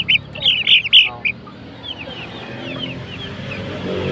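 Breeder chickens cluck in a quick burst of short, sharp calls close by, then fainter scattered clucks over steady farmyard background noise.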